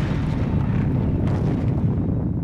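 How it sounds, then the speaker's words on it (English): An atomic bomb detonation rendered as a loud, sustained, deep rumbling roar that fills the whole stretch without a break. "whatever the method of detonation, the terrifying effects of an atomic bomb remain the same"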